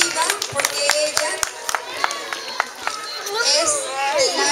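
Scattered, fairly close clapping from a school audience at a Day of the Dead celebration, a handful of separate claps under a voice and children's chatter that grow livelier toward the end.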